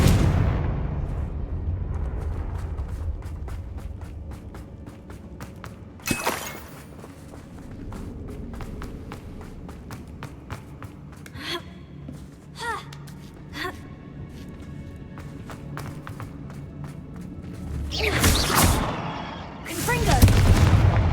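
Confringo blasting spells in Hogwarts Legacy go off as several heavy booming explosions spread through the stretch, the biggest near the end, amid rustling footsteps and game effects.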